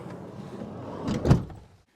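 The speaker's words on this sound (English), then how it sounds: "Oh, shut that door, Daisy." A door in a van being shut: a low rumbling slide builds to one firm thud, followed by a brief rattle that dies away into silence, close and alone without talking.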